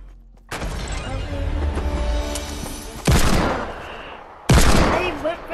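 Gunfire rings out in a Fortnite Creative match: a sustained burst of shots, then two further sharp loud blasts, each followed by ringing decay.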